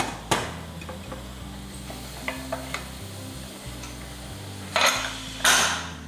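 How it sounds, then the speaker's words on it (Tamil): A pressure cooker lid closing over country chicken biryani gives a few sharp metallic clanks and knocks, loudest near the end, over a faint background hiss. "இப்போ குக்கர் மூடி வச்சிடலாம்"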